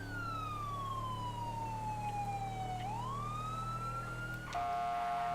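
A police car siren wails during a shots-fired call in San Antonio, sweeping down slowly and back up, then switching to a different tone over a low engine hum, fairly faint and steady.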